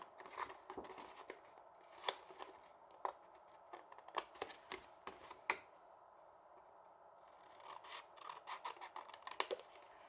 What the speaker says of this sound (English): I'm cutting to the right of my score line here